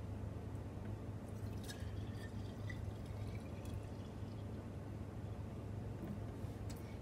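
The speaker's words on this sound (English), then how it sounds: "And I'm gonna add distilled water to the rest of the bottle." A thin stream of distilled water pours steadily into a soap bottle, a continuous soft trickle with a few small drips over low background hum.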